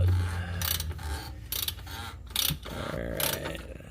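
On a 2016 Prius, a ratchet tightens the oil filter cap with repeated bursts of clicking pawl ratcheting, about four strokes, close and moderately loud.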